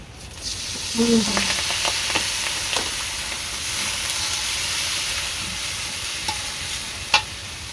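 Garlic and ginger paste frying in a pan, a steady hissing sizzle close by with a few stirring scrapes and one sharp clank near the end.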